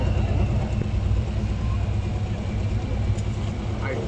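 A 9000 lb pro stock pulling tractor roars steadily at a tractor pull, its deep engine rumble loud and continuous with faint voices in the background.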